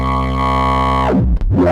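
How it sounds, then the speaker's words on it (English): A PWM Mantis hybrid synthesizer with its oscillator and drive turned full up roars with harsh, buzzy distortion in a loud sustained tone, then sweeps sharply downward and back up near the end. "We can get some really really angry distortion by driving it, turning the oscillator full up,"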